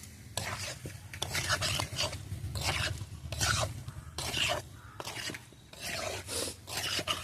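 A metal spoon scrapes and stirs meat and potatoes sautéing in a pot over a home clay stove, rhythmic close rasping strokes in repeated bursts with a soft sizzle beneath, no voices.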